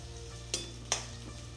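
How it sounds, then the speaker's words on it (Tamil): Small onions frying in oil for a Chettinad vendhaya kulambu, with a soft steady sizzle and two quick scraping stirs of a spoon, close and quiet. "வெங்காயம் நல்லா எண்ணெயில் பொன்னிறமாக வரந்துட்டிக்கு நல்லா வதக்கணும்"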